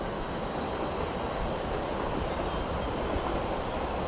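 A Stadler FLIRT train runs through a Budapest station with a continuous broad roar and rumble, loud and near, holding steady with no pauses.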